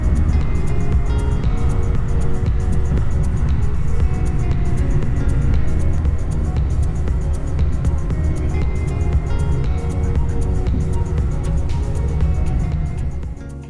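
An Amtrak Acela high-speed train runs at about 160 mph, giving a steady, loud rumble and rushing roar heard from inside, with no letup.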